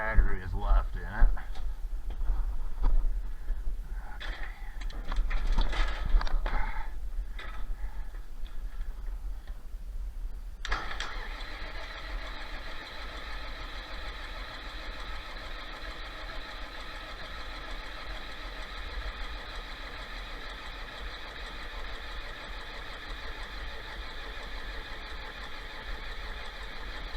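John Deere 4020 tractor with a failed injection pump being cranked on a weak battery, uneven clicking and turning for several seconds, then a steady droning hum that continues to the end.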